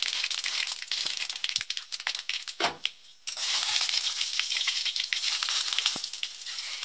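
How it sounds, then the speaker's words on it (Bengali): Cumin and mustard seeds fry in hot oil, giving a soft continuous sizzle with scattered crackles and pops, dipping briefly to near quiet partway before the frying resumes. "জিরে, সরষে গোটা। এটা ভালোভাবে নেড়ে চেড়ে ভেজে নেব।"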